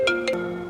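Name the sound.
mobile phone ringtone, incoming call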